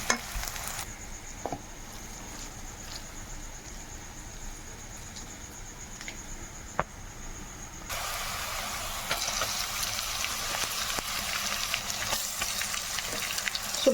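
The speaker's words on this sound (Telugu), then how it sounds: "ఇప్పుడు మనం కడిగి పెట్టుకున్న చికెన్ కీమాని ఇందులో వేసుకుందాము" Washed chicken keema goes into a pan of fried ginger-garlic paste, quiet background hiss with a few faint clinks at first, then a louder, steady frying sizzle takes over for the last several seconds.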